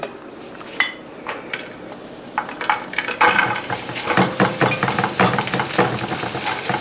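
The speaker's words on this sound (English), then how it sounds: "I'm cooking in a nonstick pan. I am not adding any fat." Keto bread batter cooking in a nonstick pan with no added fat, soft sizzling under scraping and light clinks of a utensil against the pan, growing busier toward the end.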